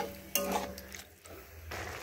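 Boiled chana dal being stirred into boiled spinach in a pot, a few soft scraping and clinking strokes of a spoon against cookware, close and fairly quiet, with no talking.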